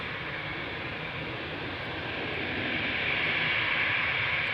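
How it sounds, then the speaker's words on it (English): A KLM Boeing 787-9 Dreamliner jet at Amsterdam Schiphol produces a steady engine roar with a bright whine that gradually grows louder, alone without voices. "This is KLM flight 677. It is a Boeing 7879 Dreamliner going to YYC or Calgary."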